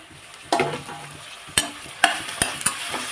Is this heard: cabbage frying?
yes